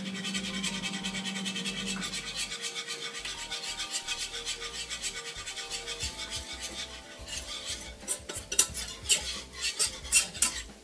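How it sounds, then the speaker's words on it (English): Flour being whisked into a roux for a Cajun shrimp and crab bisque, a rapid scraping, rasping whisk against a pot, starting gentle and growing louder and more vigorous toward the end, close and with no voices. "You just want to whisk it in gently, a little bit at a time."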